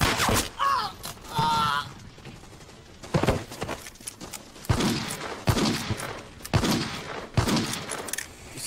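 Rapid, crackling gunfire in a comedy battle scene, heard as repeated bursts under loud shouting and yelling voices throughout.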